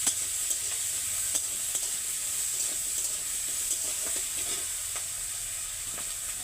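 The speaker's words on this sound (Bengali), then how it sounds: "ট্যাংরাটা ভালো করে কষিয়ে দেবো একটু তেলে।" Tangra fish frying in a little oil makes a loud, continuous sizzle with frequent stirring scrapes and small clicks throughout, with no voices.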